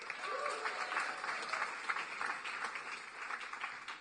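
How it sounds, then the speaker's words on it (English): A packed coffee-shop room at an accelerator demo day breaks into steady, sustained applause, moderately distant, with a voice faintly over it. "Can we clap it up for Notion?"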